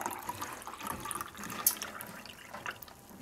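A 1.5 liter yeast starter is poured from its vessel into a container, giving a steady, moderately quiet liquid splash and trickle for about three seconds with no voices.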